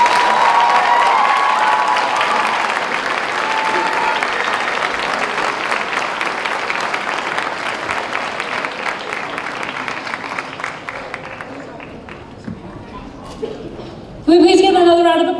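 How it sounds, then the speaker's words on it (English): An audience at a cultural night showcase applauds and cheers after a student's poem, a loud, dense burst of clapping with shouts that slowly thins out, before a voice comes in near the end. "Can we please give another round of applause for Angelina and her poem?"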